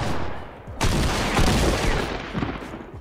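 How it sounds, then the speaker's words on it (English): A double barrel shotgun fires in Fortnite as a loud burst of blasts, then echoes and decays over a couple of seconds. "let's test out the double barrel and a normal pump"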